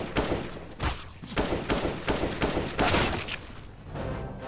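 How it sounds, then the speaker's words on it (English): Rapid bursts of gunfire in the game CS:GO, repeated shots in a dense volley across the whole stretch, loud and close with brief gaps between bursts. "I shot like a billion times"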